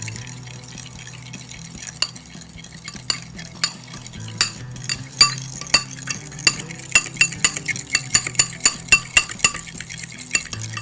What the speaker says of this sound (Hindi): ये देखें, हम इसको मिक्स कर रहे हैं।